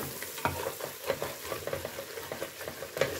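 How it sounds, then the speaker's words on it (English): Onion fries in a pot for a quick curry while being stirred, a steady sizzle broken by repeated scraping and clinking strokes of the spoon, close and moderately quiet with no voices. "Stir that in."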